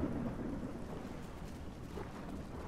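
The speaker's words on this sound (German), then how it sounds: "Also ich habe zumindest gerade Gewitter gehört" Thunderstorm in the video game ARK: Scorched Earth Ascended, a faint low rumble of thunder with a rain-like hiss underneath, fairly distant and steady.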